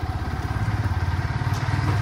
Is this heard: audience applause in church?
no